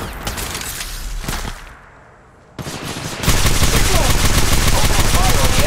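Gunfire in the Apex Legends Mobile game: rapid automatic bursts and sharp shots, a brief lull, then sustained loud firing to the end.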